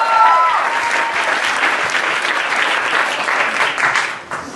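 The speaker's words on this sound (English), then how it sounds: "Clap as Tamara comes to the mic." An audience at a poetry event applauds as a poet comes to the mic, a loud, full burst of clapping from the start that holds steady and then tapers off in the final second.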